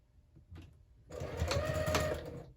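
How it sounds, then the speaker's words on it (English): A sewing machine stitches the seams of a scrappy zipper pouch made from jelly roll fabric strips, running in one steady, fairly close burst of about a second and a half after a few quiet handling sounds. "we're gonna go ahead and sew those at 3/8 inch seam allowance"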